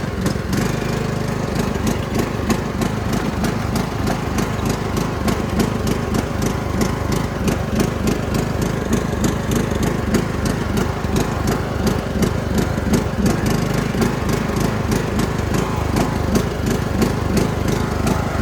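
A free Craftsman riding mower's small engine running steadily and loud close by, with a rapid, slightly uneven throb that suggests a worn carburetor, continuous for the whole stretch with no talk.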